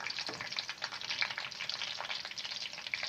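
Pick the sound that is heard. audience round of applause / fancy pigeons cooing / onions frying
onions frying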